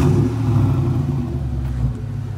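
A Ford Mustang S550 with its stock headers back on idles with a deep, loud, steady engine rumble up close, rising briefly as if blipped before settling again.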